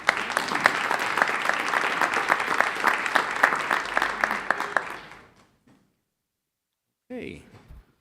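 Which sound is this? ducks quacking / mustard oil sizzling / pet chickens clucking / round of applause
round of applause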